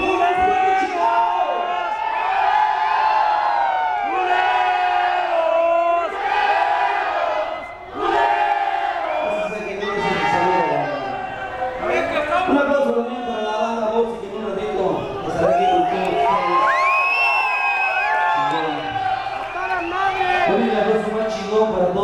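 Large crowd at a live band show in Portland, Oregon shouts and cheers loudly and continuously, with voiced whoops and chants filling the space throughout.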